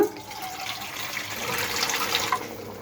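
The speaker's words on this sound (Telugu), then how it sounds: "ఒక చుక్క నీళ్ళు వేస్తున్నాను నేను" Water poured from close by into a pan of simmering prawn and drumstick curry with oil, a short, continuous splashing trickle lasting a few seconds with no talk.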